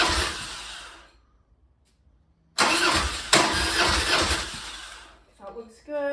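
A 1994 Harley-Davidson Dyna motorcycle engine cranks over twice during a compression test, loud and close, with a short first burst, a pause, then a longer cranking run; a brief tonal sound follows at the end.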